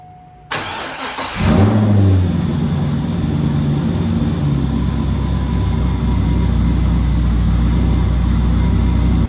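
A C5 Corvette with long tube headers, catback and catless unresonated exhaust cranks and fires up, then settles into a loud, deep, rumbling idle that holds steady and close for several seconds with no talking.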